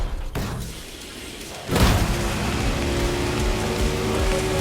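Steady rain patters and hisses on a surface in The Crew Motorfest video game, swelling louder after a quiet, muffled opening, with a faint low thud near the change.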